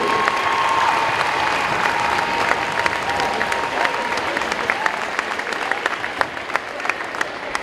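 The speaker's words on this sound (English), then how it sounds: "How about a big round of applause for our seniors?" A crowd at a high school pep rally applauds the seniors, with steady, loud clapping and cheering throughout and a few sharper claps standing out toward the end.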